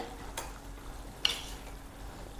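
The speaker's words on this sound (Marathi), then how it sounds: "1-2 मिनिटे आणखीन आपण या गुळामध्ये कैरी छान अशी शिजवून घेऊयात" Raw mango curry simmers in jaggery in a pan, heard as a faint, steady low sizzle with a couple of brief stirring scrapes, close and without talk.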